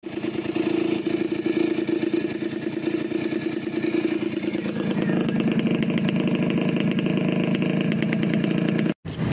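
A motorcycle engine running steadily and loudly on a trail ride in rainy weather, its mid-pitched drone continuous throughout with faint rev changes and a brief dropout near the end.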